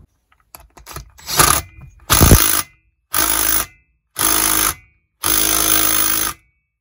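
A power tool tightens a part during a Stihl MS170 chainsaw rebuild: a few light clicks and handling noises, then five loud, even bursts of whirring, each about a second long and separated by short pauses.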